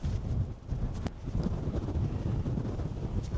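Strong gusting wind buffets an exposed hilltop at the Wedgwood Monument in Staffordshire, a steady loud roar with rushing surges and no voices.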